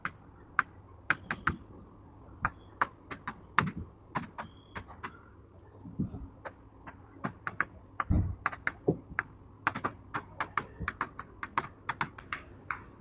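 Someone types on a computer keyboard, producing irregular bursts of crisp, close key clicks with short pauses over about thirteen seconds.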